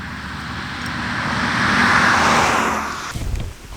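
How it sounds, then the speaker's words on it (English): Traffic rumbling along a paved road beside a long-distance hiking trail in Skåne, Sweden, with a vehicle swelling past as a steady broadband whoosh that peaks midway and then fades. "Nice paved road and traffic."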